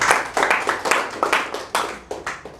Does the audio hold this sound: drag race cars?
no